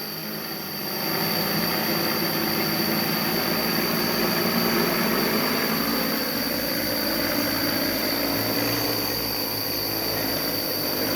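An agricultural spraying drone comes down to land over an eggplant field after spraying Beauveria fungus, its steady motor drone swelling after the first second and holding close and loud throughout, with no talk.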